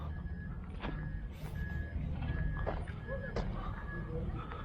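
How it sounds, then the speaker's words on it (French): Construction trucks at a public works equipment fair, with repeated reversing beeps sounding at a steady rhythm over low engine rumble and crowd murmur, some talking voices nearby. "Donc tu vois maintenant les camions"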